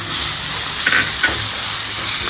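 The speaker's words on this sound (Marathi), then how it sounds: "खमंग आता मस्त परतून घेऊया. कांदा घालूया बारीक चिरलेला." Finely chopped onion sautéing in a pan for breakfast upma, a steady close sizzle and hiss with a few brief stirring scrapes, no voices.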